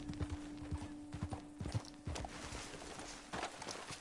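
Video game horse hooves clip-clop in a steady walking rhythm on a hard surface, fairly close, with a low constant hum underneath and no talking.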